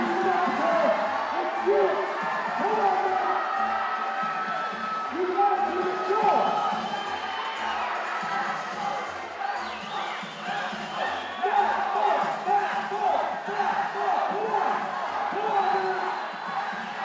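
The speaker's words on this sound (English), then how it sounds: "Matt Bolt chant has started in the crowd." A spectator crowd at the Yank-N-Yard 2019 climbing finals chants a climber's name in a steady rhythmic roar, mixed with cheers and whoops, while a commentator speaks over it.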